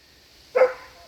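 A single short dog bark, sharp and fairly close, in an otherwise quiet setting.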